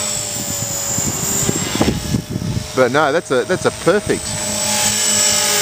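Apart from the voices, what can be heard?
small model helicopter flying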